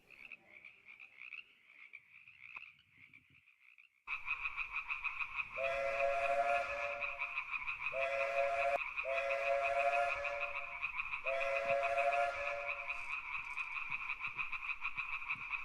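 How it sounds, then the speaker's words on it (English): Frogs on a lake island croak together in a steady, loud chorus, with strong repeated croaking bursts rising over a continuous drone. A fainter stretch comes first, and then the full chorus starts suddenly. "Lake Frogs take over the sounds of the island"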